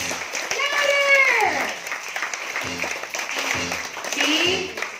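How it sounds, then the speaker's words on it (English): An audience claps at a sea lion show at Ocean Adventure in Subic Bay, with bursts of applause from a crowd under a loud host voice that talks over much of the clip. "So folks, same rule applies, everybody, clap your hands! Louder!"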